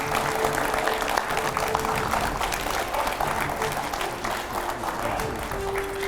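Studio audience in a TV9 Hindi talk show studio applauds steadily as a well-known film personality walks on, a dense continuous clapping that holds for several seconds at even loudness.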